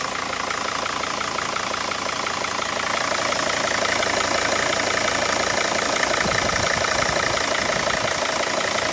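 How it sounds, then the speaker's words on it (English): A continuous mechanical hum and rattle of the auxiliary pump running alongside an idling diesel engine in a T1N Sprinter van, steady and close, with no voices. "I can hear already the auxiliary pump is turning"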